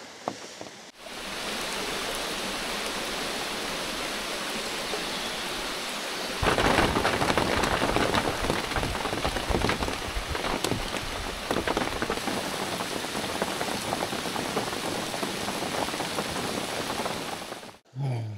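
Rain falls heavily during a packraft trip down a wild river, a dense hissing patter that grows louder after a few seconds and keeps up steadily before cutting off near the end.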